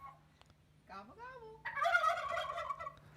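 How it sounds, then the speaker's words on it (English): A wild turkey gobbles once, loud and fairly close, a rising call followed by a rapid warbling gobble lasting over a second, heard alone against a faint background hum. "Do turkeys really respond when you gobble at them?"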